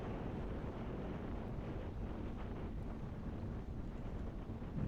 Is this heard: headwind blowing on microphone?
yes